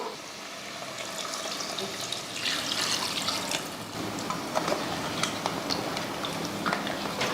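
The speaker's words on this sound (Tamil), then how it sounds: "இந்த டைமில் நம்ம தண்ணி சேர்த்துருவோம்" Water pours into a cooking pot, a running splash that builds and swirls over sizzling, with a few scrapes.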